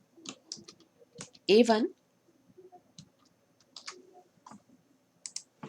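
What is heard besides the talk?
typing on a computer keyboard while writing Python code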